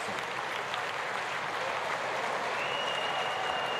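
Sustained applause from the audience in the chamber at the 2020 State of the Union address, a dense, even wash of clapping that holds steady throughout with no voices rising above it.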